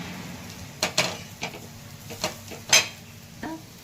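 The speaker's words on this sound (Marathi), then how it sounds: "खूप चांगलं छान मध्ये परतून घ्यायचं तेलामध्ये" Ground peanuts sauté in hot oil in a pan for peanut chutney, with soft sizzling under a few distinct scrapes and knocks of a spoon stirring against the pan.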